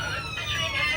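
An electronic smoke alarm wails steadily inside a coach of the Guwahati–Sairang Express, set off by cigarette smoke in the toilet, with its wavering tone sounding over the low rumble of the train.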